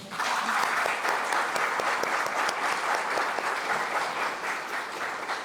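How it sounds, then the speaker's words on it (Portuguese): An audience gives a round of applause for Amanda Hevia Raimundo, a young speaker at a talk. The clapping is dense and steady, with no voices, and keeps a constant level for about five seconds. "Amanda, uma salva de palmas."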